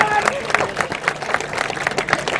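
A crowd at a bait fishing tournament gathering claps for an angler, a brief patter of applause with talk running over it.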